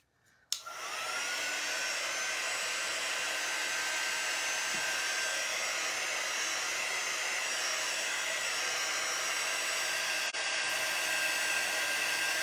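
A hair dryer switches on with a click and runs as a steady, loud, continuous whoosh, drying paste on a colorful floral medallion craft piece.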